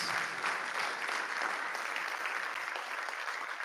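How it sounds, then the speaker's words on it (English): Steady, even clapping from a large crowd at a senior awards night, a short unbroken round of applause for the distinguished honorees, fairly distant and without breaks. "One more round of applause here for our distinguished honors."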